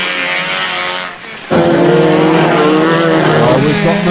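Banger racing cars roar loudly around a full-contact oval track, engines dipping briefly before surging back at full volume, with a commentator's voice running over the din.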